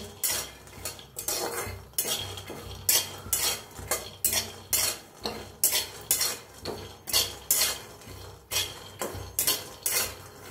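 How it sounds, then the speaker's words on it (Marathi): A utensil scrapes and clatters in a pan in a steady repeated rhythm as coconut is stirred and dry-roasted, close and fairly loud, with no voices. "हलवून का नाही छान असं भाजून घेऊया"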